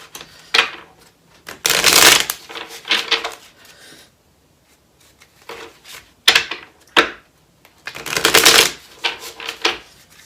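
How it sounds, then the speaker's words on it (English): A deck of tarot cards is shuffled in several quick bursts, crisp riffling flutters separated by quiet pauses, close and fairly loud with no talking. "I'm going to shuffle these and just see what more wants to come out."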